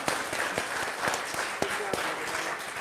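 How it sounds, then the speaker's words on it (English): A crowd applauds with steady, dense clapping that stays at an even level from start to finish. "Can we give those guys a round of applause?"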